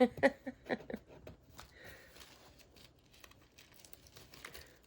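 Scotch tape peeling off a gray 12x16 picture frame during a decorative meal planner craft, with a few close crinkling, tearing bursts at the start that fade into faint rustling.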